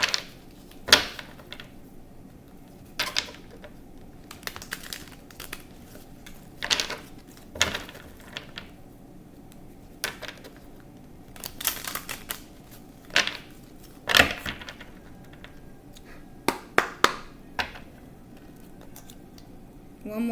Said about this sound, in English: Gotta get a quick shuffle on me.